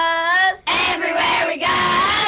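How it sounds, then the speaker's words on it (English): A U10 girls softball team, district champions, shouts a cheer together, a high group chant in three loud bursts separated by short breaths, close and unaccompanied. "The cheer from the U10 girls softball team, district champs going to state."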